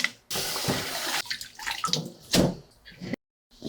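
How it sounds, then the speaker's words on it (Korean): About 800 g of salted seaweed stems rinsed by hand in water: bursts of splashing and swishing with short pauses, a brief silence near the end, then more sloshing. "물에 소금을 다 털어서 씻어서 헹궈 놓을게요"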